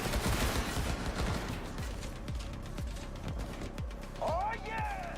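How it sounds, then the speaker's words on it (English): Repeated gunfire bursts in the video game Cyberpunk 2077, sharp cracks spaced through the scene, with someone talking over them and some electronic game sounds. "Listen to all that gunfire."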